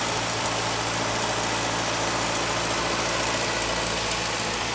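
A Mazda 6 MPS petrol engine idles steadily while running on added oxyhydrogen during a hydrogen carbon clean, giving a constant close engine hum with no talk.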